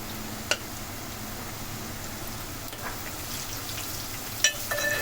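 Chopped onions with salt sizzle and crackle steadily in a pan, a soft continuous frying hiss with a couple of sharp clinks from a utensil stirring.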